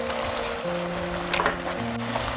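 Kimchi stir-fries in a pot with a steady, dense sizzle and brief stirring scrapes against a background hum, loud and close.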